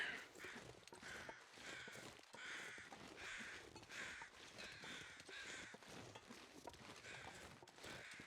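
Crows cawing repeatedly in the snowy wilderness of the survival video game The Long Dark, a steady series of harsh calls at moderate distance over a continuous windy ambience, with no talk.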